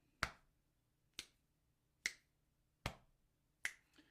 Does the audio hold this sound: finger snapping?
yes